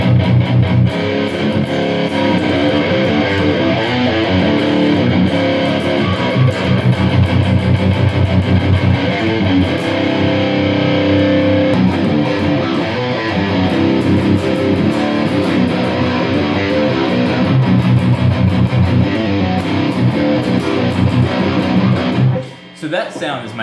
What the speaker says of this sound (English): So this is my high gain channel.